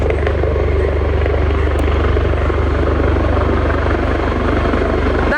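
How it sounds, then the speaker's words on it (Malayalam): A helicopter near Kalpeni in Lakshadweep approaches with a loud, steady, close rotor roar and thumping that holds unbroken throughout. "ആ ഹെലികോപ്റ്റർ അടുത്ത് വന്നിട്ടുണ്ട്."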